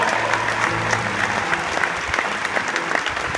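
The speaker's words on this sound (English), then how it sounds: "Let's give them another round of applause." Steady, dense applause from a large audience at a Walmart morning meeting in an amphitheater, continuous and even throughout with no pauses.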